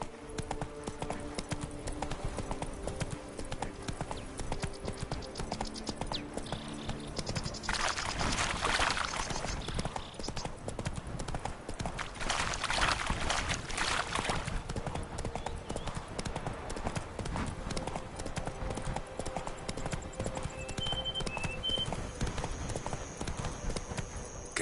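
Hooves of Roach, a horse in The Witcher 3, clip-clop steadily on the ground throughout, loud and close, over a constant bed of ambient game noise.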